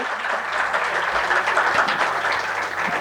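An audience at a poetry competition breaks into loud, continuous applause, with many hands clapping together at an even level for a few seconds.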